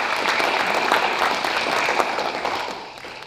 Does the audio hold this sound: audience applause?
yes